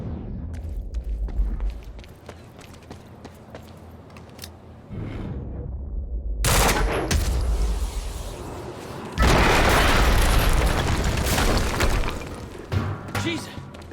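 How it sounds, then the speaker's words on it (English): A game explosion from Quantum Break bursts out loud and broadband, followed by a second heavy blast, with thuds and rumbling debris around them. "HQ, we just heard an explosion near the harvesting perimeter."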